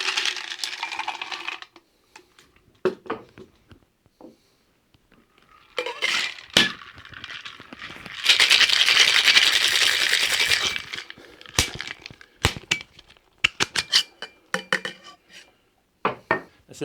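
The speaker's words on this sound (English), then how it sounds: "let's see what happens if we just do one single shake with ice." Cocktail shaker with ice for a Clover Club cocktail: scattered clinks of ice and metal, then a loud, continuous rattling shake for a few seconds, followed by more sharp clinks and taps.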